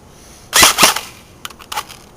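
An ICS M4A1 airsoft gun dry firing: two sharp, loud snapping bursts close together, followed by a few fainter clicks and a short spring-release rattle, with no voices.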